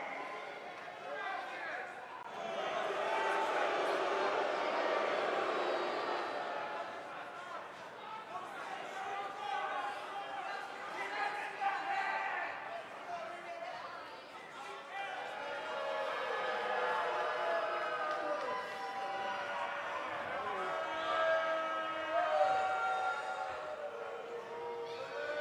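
Wrestling arena crowd at a championship lucha libre event, cheering and roaring in sustained loud swells before a two-out-of-three-falls match, with an announcer talking over the noise throughout.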